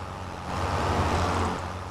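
Tractor engine in the video game Farming Simulator 25, a steady low mechanical drone that swells slightly after the first half second and holds even, with no talk over it.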